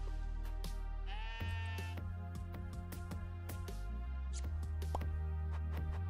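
Sheep in the video game Necesse bleat several times over a steady low game hum, with sharp chopping hits scattered throughout and no talking.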